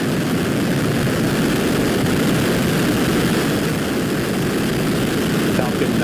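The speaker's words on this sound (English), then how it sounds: "Ignition. Engines full power. And liftoff." Falcon 9 rocket lifting off with a Cygnus spacecraft bound for the International Space Station, a loud unbroken crackling roar that holds steady and dense throughout.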